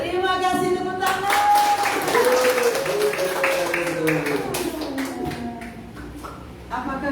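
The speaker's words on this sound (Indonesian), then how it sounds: "Terima kasih tepuk tangan." An audience at a children's church gathering gives a burst of clapping applause. It runs under and alongside a speaking voice and gradually fades toward the end.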